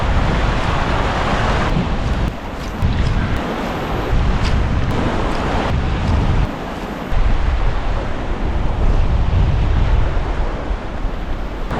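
Strong wind blowing steadily on a remote south coast shoreline, a loud continuous roar with gusty swells and rumble, no voices.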